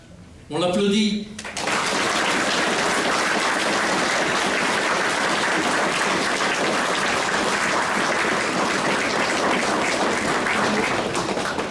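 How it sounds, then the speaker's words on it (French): A ceremony crowd breaks into sustained, loud applause right after a short burst of French-speaking voice, the clapping dense and even for the rest of the stretch. "On l'applaudit."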